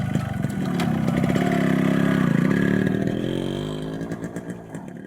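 A motorcycle engine in an animated story, a loud close rumble that revs up and then fades as the bike rides away, with no voices.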